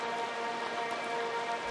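Steady rain sample in a minimal trap production, a dense continuous hiss of falling rain with faint tonal layers, even and unbroken throughout.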